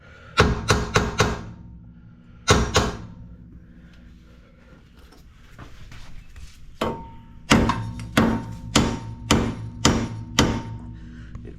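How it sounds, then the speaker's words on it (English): A hammer strikes metal repeatedly during a clutch replacement on a 1997 Ford Festiva: quick clusters of sharp, ringing blows, a quieter pause, then a steady series of heavy hits, close and loud. "Need a bigger hammer."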